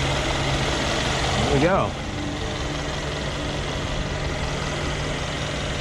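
A 2015 Mercedes-Benz S550 4Matic V8 idles with a steady, smooth low hum that continues unchanged beneath a brief spoken remark.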